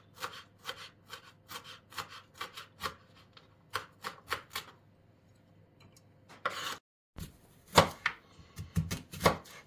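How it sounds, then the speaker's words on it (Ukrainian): A knife finely chops fresh herbs on a board in a home kitchen, producing quick, crisp taps in uneven bursts, with a brief pause and then sharper, louder chops near the end. "І дрібнемо зелень. Дрібнесенько, дрібнесенько ріжемо."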